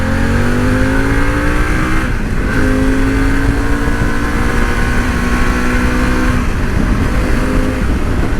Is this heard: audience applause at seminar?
no